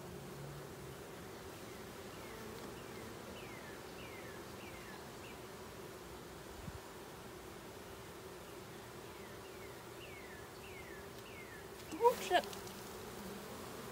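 Honeybees in a large top bar hive during an inspection, a faint steady buzzing drone throughout, with a couple of brief knocks near the end.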